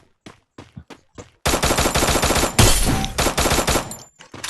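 A double-barrel shotgun fires in a multiplayer shooter video game with a lone wolf mode. A few short percussive hits come first, then a loud, sustained, dense run of rapid gunfire lasts several seconds with no talk over it.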